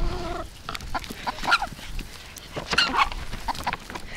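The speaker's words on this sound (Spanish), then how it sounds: "Ya llegamos a casa y miren las gallinas." Chickens at a home cluck and call in a busy, continuous farmyard din, fairly close and loud, with no talking over them.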